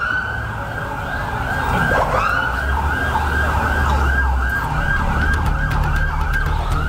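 Wailing ambulance sirens from a convoy of 23 ambulances carrying bus crash victims between hospitals in Probolinggo and Jember, Indonesia, rising and falling steadily and close, with road traffic rumble beneath.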